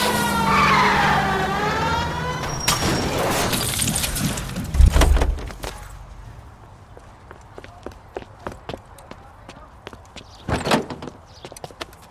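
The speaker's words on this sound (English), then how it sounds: "Hit him, Cole. Spin him out" A car in the video game L.A. Noire being rammed and spinning out: a roaring engine and tire skid, a heavy crash with breaking glass, then quieter scattered clatter and footsteps.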